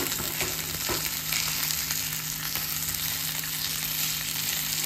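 Chutney-stuffed pomfret fish frying in a pan until crisp, giving a steady, close sizzle throughout with faint stirring or scraping noises and no talking.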